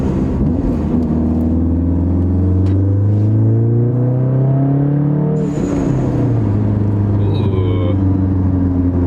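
A 2017 VW Golf R with a Borla S-Type cat-back exhaust revs and accelerates in traffic, its engine rumble rising and falling through gear changes, with talking over it.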